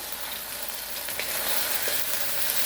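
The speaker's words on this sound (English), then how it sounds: "if you add the garlic to the oil, it cooks pretty quick" Garlic frying in oil in a pan, a soft steady sizzle that grows slightly louder partway through, close and continuous with no talking.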